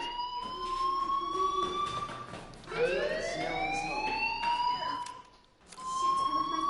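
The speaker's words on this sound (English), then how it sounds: "do you hear that fire alarm? That means you should be outside." A fire alarm wails in the video game Life is Strange, its loud tone sweeping upward and holding, then restarting, repeated continuously with no one speaking.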